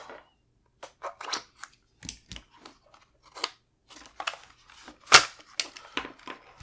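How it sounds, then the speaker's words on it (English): A Springfield Armory Hellion rifle has its handguard removed by pushing a pin, producing sparse close metallic clicks, taps and scrapes with one sharp snap toward the end. "Now we can remove our handguard by pushing in another pin."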